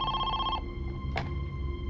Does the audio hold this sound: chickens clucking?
no